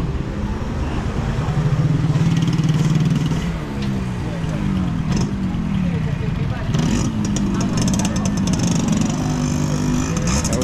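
Rush-hour street traffic on a town street in Las Terrenas, Dominican Republic, with cars and motorcycles passing and engines humming and revving close by, steady throughout with a voice talking over it.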